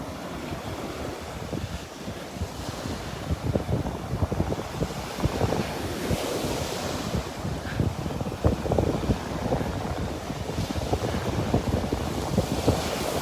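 Ocean surf washes onto a beach in North Naples, Florida, a continuous rushing roar mixed with wind buffeting the microphone, with no talking.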